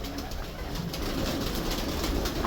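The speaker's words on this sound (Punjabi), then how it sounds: "ਇਹ ਕਬੂਤਰ ਆ ਜੀ" A Lakhi female pigeon of an Indian breed coos softly amid a steady broadband background hiss, the calls close but partly buried in the noise, with no talking.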